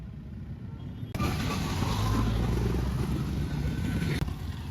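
Road traffic with trucks and other vehicles in a jam, a steady loud engine rumble close by that swells suddenly and holds before dropping back, with no talk over it.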